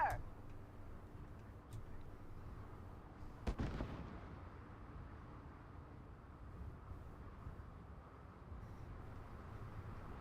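A grenade blows up in the Starfield video game as one heavy boom with a rumbling tail, standing out over a constant low in-game background roar.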